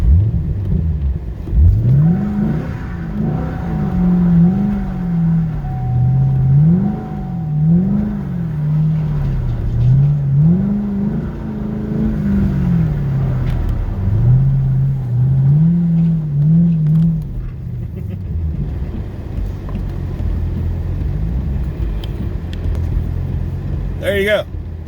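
2011 Chevrolet Camaro SS engine idling and revving on a wet day, repeated rising and falling revs over a steady loud rumble, with people talking over it.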